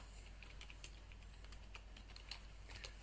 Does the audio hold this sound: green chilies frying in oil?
no